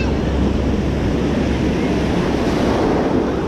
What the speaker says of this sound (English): Look at the waves. Can you see how big the waves are?